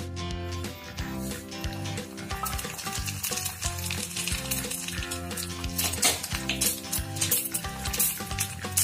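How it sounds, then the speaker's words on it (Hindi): Mustard seeds crackle and sizzle in hot oil in a pan, a dense continuous frying hiss with sharp popping bursts that grow livelier toward the end, with steady background tones underneath. "एक पैन में मैंने ऑयल ले लिया है, ये गरम हो गया है। अब हम इसमें डालेंगे राई।"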